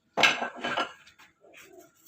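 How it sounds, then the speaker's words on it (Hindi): Fork clinking and scraping in a bowl as fish marinade is mixed, two brisk bursts of clatter close by, then softer scraping. "एक फोक की मदद से हम इसे अच्छी तरह मिक्स कर लेंगे।"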